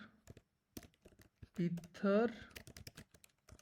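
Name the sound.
typing code on a computer keyboard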